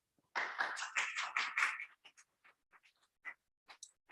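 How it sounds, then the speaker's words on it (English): Faint audience applause after a poetry reading at a university student showcase, a short dense burst of clapping that thins out into a few scattered, isolated claps. "keep that applause going"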